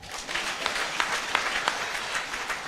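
A church congregation applauding, dense steady clapping from many hands throughout, moderately loud and filling the room.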